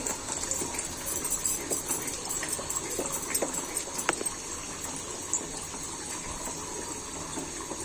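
Water is poured into a cooking pot holding banana blossom seasoned with salt, giving a soft, continuous splashing trickle, close and fairly quiet, with a few light clinks and no talk.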